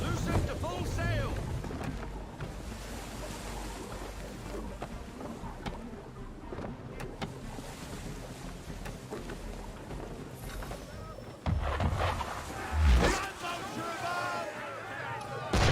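Sailing ship under sail at sea in Assassin's Creed 3, a steady broad rush of wind and water with creaking and splashing throughout, a heavier surge near the end, and voices talking over it.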